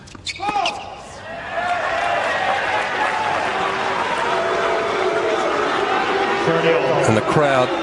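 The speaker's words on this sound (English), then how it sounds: "the crowd expressing their opinion of the idiot who yelled out in the middle of Baghdatis' service action" A tennis crowd at the 2008 Australian Open, during a Hewitt versus Baghdatis match, murmurs and grumbles disapprovingly at a spectator who shouted during a serve, a sustained swell of many voices with sharp court sounds at the start and end.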